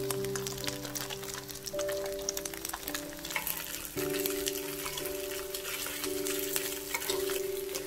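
Pan-fried thin-skin dumplings crackle in oil, a dense steady sizzle with popping spatter, fairly close and even throughout, alongside a faint tonal hum in the background and no talking.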